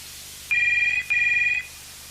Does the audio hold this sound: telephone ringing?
yes